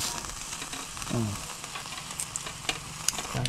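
Squid and meat sizzle on a surplus grill bought from a Japan surplus shop, a steady close crackling hiss with a few sharper pops and a brief voice sound.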